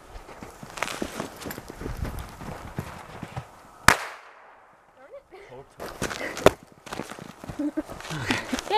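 Firecrackers go off inside a sweet potato outdoors, a rapid string of sharp close pops and bangs with one louder crack, then a brief lull before more bursts, while people talk and react in the background.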